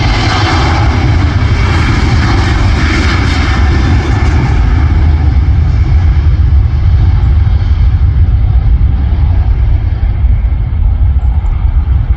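A Ryanair airliner jet passes over the Manchester Airport southside viewing park, its engines making a loud, steady, broadband roar that fills the whole stretch and eases only slightly toward the end, with no voices.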